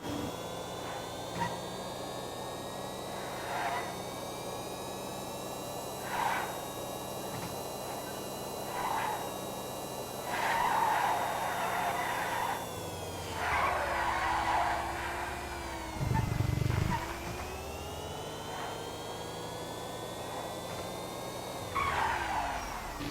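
Electric car in a racing video game braking hard, with repeated tire skids and squeals rising out of a steady engine whine, several bursts over the drive, close and alone without talk.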